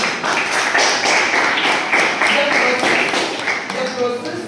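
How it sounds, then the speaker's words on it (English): A classroom of students clapping together in a short, uneven round of hand claps, fairly close, with some voices mixed in. "Give me a big round of applause."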